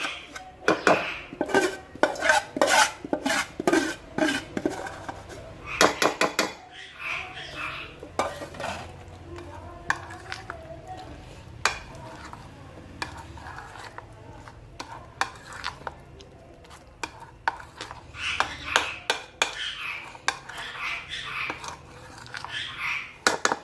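Spices being mixed into a bowl of gram flour (besan) batter for chicken pakora, with a spoon clinking and scraping against the bowl in quick bursts, then softer, wetter stirring, all close by and with no talk.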